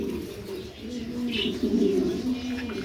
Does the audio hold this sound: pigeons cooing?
yes